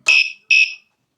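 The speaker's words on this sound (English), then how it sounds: "It gives an audible beep when setting up" Geevon bike alarm unit sounding two short, loud, shrill electronic beeps in quick succession, close by, with silence after.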